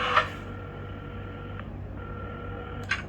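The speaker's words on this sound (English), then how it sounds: "at the counter, Carmen had started dialing the phone" A telephone being dialed in the Assemble With Care game, soft beeps and a quiet tone over a low hum, with a short click at the start and another near the end.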